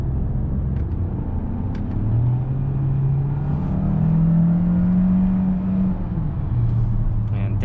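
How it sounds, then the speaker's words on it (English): A 2021 Hyundai Santa Fe Hybrid with a 6-speed automatic downshifts and accelerates, its engine rumble rising in pitch and holding steady under road noise, heard from inside the cabin. "And downshifting and hitting the gas pedal, it's actually nice and responsive."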